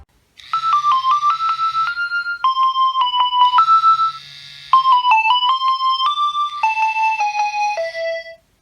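A bright, beeping monophonic Nokia phone ringtone melody plays alone, loud and close, with quick stepwise notes in short repeated phrases.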